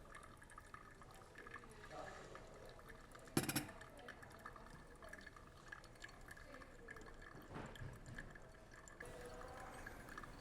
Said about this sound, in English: Make sure you're pouring in nice circles.